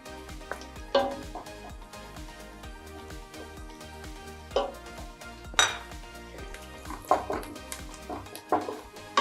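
Garlic and chili stirred in a pan for a chicken wrap filling, with repeated metallic clinks and scrapes of a utensil against the pan over a faint sizzle, close and uneven.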